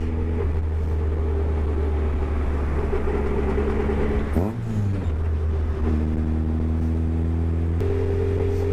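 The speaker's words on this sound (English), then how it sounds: "the old Ford diff whine" A raw Striker sports car with a Ford differential cruises along, its steady engine and road rumble carrying a constant tonal whine that shifts pitch briefly midway as the car slows and picks up again.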